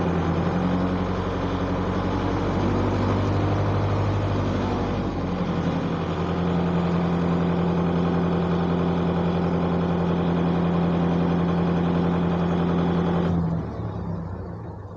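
A Kubota MU4501 tractor engine idles steadily with a deep, even rumble for most of the span, then drops off abruptly near the end.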